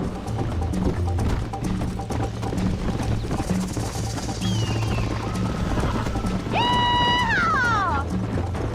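Horse hooves gallop in Red Dead Redemption, a rapid steady clip-clop running throughout alongside a game score, with a whinny-like rising tone near the end.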